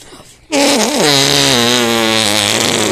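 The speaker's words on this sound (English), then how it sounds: "give a, give us a uh, arm fart" An arm fart, made by pressing a hand against the arm, lets out one loud, sustained buzzing blast of about two and a half seconds close to the microphone.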